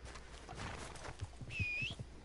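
Faint horse hooves clip-clop in an irregular walking rhythm in Red Dead Redemption 2, quiet and close, with a brief whinny-like tone partway through.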